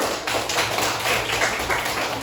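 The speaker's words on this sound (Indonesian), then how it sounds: "Kita kasih tepuk tangan dulu untuk kelompok 3." Group members clap for the third group after its presentation in a classroom discussion, a close, continuous patter of hand claps that stays loud and even throughout.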